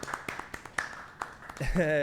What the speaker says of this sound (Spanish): Por favor, fuerte el aplauso para Amanax